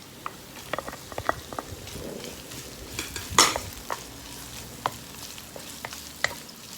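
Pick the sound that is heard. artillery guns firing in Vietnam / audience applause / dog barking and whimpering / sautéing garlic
sautéing garlic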